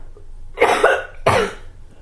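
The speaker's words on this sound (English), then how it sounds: "I'm just coughing" Two sharp coughs close by, about half a second apart, with no talking around them.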